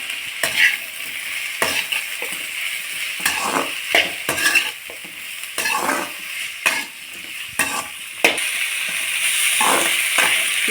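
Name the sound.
sautéing ingredients in a pan for kadamba chutney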